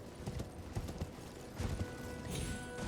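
Horse hooves clip-clopping in Elden Ring, a quick irregular run of soft thuds close by, fairly quiet under ambient game sound.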